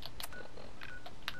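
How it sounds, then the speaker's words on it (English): An accidentally touched phone gives off a short run of keypad tones, several distinct beeps in an uneven sequence, fairly faint over a quiet background. "Touched my phone and the phone went off"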